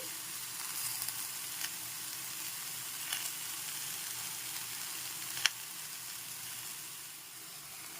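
Mango simmers with cane jaggery, salt and milk in a pan, giving off a low, even sizzle with faint stirring scrapes and one brief knock against the pan; no speech.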